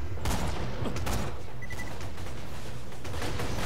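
Rapid gunfire rattles through a Borderlands 2 firefight as dense, loud bursts of shots with sharp cracks and booms over a constant roar of game action, without any voices.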